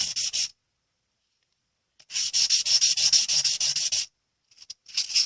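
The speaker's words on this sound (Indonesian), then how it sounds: "Masukkan lagi ke air dan gosokkan ke 800. 800 ini gritnya lebih halus dibanding yang 600." Wet sanding of a stainless steel name necklace with fine 800-grit sandpaper: close, raspy rubbing strokes in bursts, a short burst, a long steady run of rapid strokes, then brief scrapes, separated by silence.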